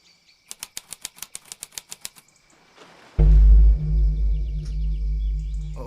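Wings flap in a rapid burst of about a dozen evenly spaced beats with faint chirps in the video game Tangle Tower, then a loud low droning hum takes over.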